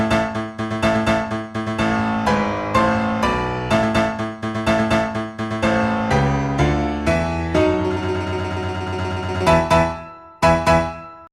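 The intro of a Dragon Ball anime score piece: brisk, rhythmic orchestral music with staccato accented hits, a held sustained passage near the end and a final sharp stab, loud and without voices.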